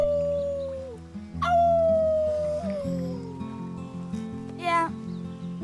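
Several characters in Life is Strange 2 howl together like wolves in a drawn-out, wavering human imitation of a wolf howl, with a second shorter burst of howls, over steady game background music.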